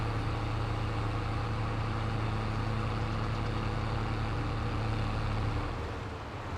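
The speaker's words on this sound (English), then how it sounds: "5 minutes just to get to the field with this little tractor" Small tractor in the Farming Simulator 22 video game driving to the field, a steady, loud engine drone with a constant low hum that eases off slightly at the very end.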